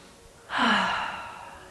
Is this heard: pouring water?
no